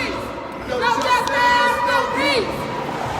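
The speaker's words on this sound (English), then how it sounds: "walking up to the large crowd." Large protest crowd chatter out on the I-35W highway, a steady murmur of many voices with scattered raised shouts and calls, heard close as the crowd is approached.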